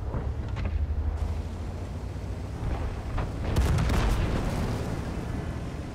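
Tank cannon shells firing in World of Tanks, played in a Strv 103-0 tank destroyer: deep booming blasts and rolling rumble with a sharper crack near the middle, steady background battle noise, no talk.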